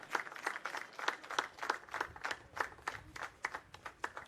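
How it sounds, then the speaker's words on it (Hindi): Audience at a Jharkhand Foundation Day award parade ceremony claps for honoured martyrs' families, a faint, distant round of applause with rhythmic, fairly regular claps running steadily for several seconds. "जोरदार तालियों से अभिनंदन करें"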